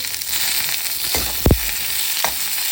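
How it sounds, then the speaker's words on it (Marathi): Onions sauté with coconut in a pan for Khandeshi sev bhaji, a steady oily sizzle with a couple of sharp spatula knocks and scrapes near the middle. "याला पण थोडंसं परतून घेऊ आपण याला कांद्याला"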